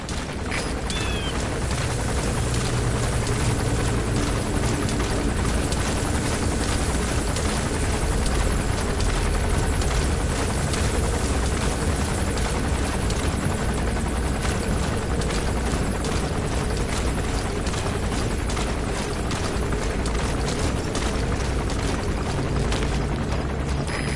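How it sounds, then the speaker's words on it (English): A helicopter landing in the video game Metal Gear Solid V, a loud continuous rotor chop and engine roar that fills the whole stretch without letup, dense and close. "There's a chopper landing."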